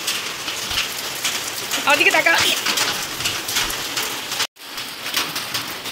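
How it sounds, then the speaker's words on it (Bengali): Monsoon rain pours steadily on nearby surfaces, a continuous wash of patter with a brief bird call, while a person speaks briefly over it. "শুধুমাত্র এই জায়গাটাতেই বৃষ্টি হচ্ছে"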